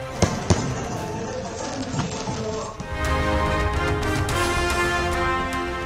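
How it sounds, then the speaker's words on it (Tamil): Fireworks at a celebration in Jaipur, Rajasthan, start with sharp, scattered pops and build into a dense, sustained crackling barrage heard from some distance. "ராஜஸ்தானின் ஜெய்ப்பூரில் கண்கவர் வான வேடிக்கையுடன் களை கட்டிய கொண்டாட்டம்"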